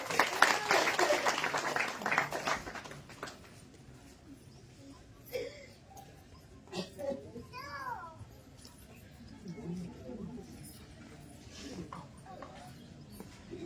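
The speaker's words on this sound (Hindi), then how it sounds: "नंदू की मुक्ति होगी भाई, ताली बजा दो" Several people clap together in a brief, loud burst of scattered applause that fades within a couple of seconds, followed by quiet outdoor ambience with faint voices and distant chatter.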